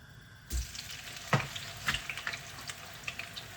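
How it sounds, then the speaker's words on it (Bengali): Onion paste goes into a hot pan: a soft thump, then a faint, crackling fry with scattered pops, fairly quiet and alone. "তো পেঁয়াজ বাটাটা বের করে নিয়েছি পেঁয়াজ বাটা দিয়ে দিব"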